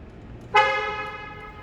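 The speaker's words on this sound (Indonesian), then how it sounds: "Untuk bunyi klakson," A single horn blast from a Mercedes-Benz B 200 Progressive Line (W247), loud and close, starting sharply and holding steady for about a second before fading.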